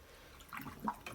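A heavy metal part is lowered into a tank of liquid while being prepped for powder coating or paint. Two or three soft, brief splashes and gurgles come close but quiet, with nothing else heard.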